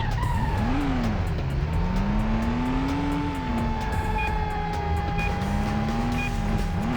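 Handbrake skid in a PS2 racing game: a sustained tire squeal over a steady engine drone, with shifting engine pitch throughout and no voices.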